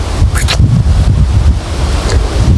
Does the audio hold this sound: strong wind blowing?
yes